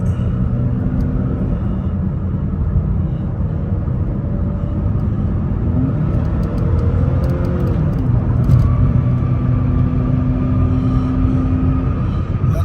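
A 2008-2012 Chevrolet Malibu engine picks up speed, a loud steady rumbling drone with rising tones that holds throughout, heard from inside the car without talk.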